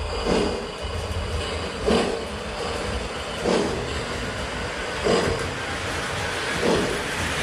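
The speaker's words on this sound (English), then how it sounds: "Oh, there it goes. It's already steaming." A Hudson steam locomotive steaming steadily, with a low continuous rumble and a rhythmic chuffing pulse roughly every one and a half seconds, moderately loud and close.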